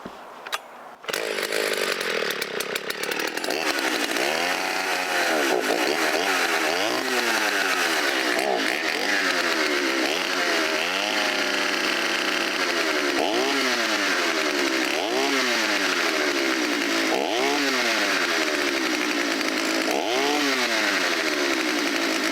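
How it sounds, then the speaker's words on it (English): A Stihl 034 chainsaw, fitted with a full wrap bar, runs close up while warming in the cold, its engine repeatedly revving up and falling back in regular surges after a brief start. "keep doing that until pretty soon the saw will just pick up and run great"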